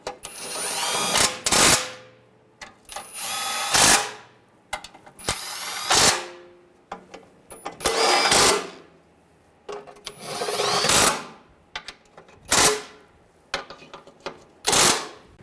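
A power tool snugs down bolts on a 2009–2010 BMW 535i xDrive 3.0L inline-six during front driveshaft replacement, whirring in about eight short, loud, close bursts with gaps between them.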